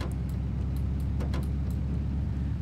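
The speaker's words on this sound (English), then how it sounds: "Ooh, that's a nice engine." A car engine in Farming Simulator 19 idles with a constant low rumble, joined by a few faint light clicks.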